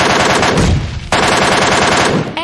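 Rapid MK rifle fire in PUBG Mobile, loud and close, a dense unbroken stream of shots with a brief dip partway through before firing resumes.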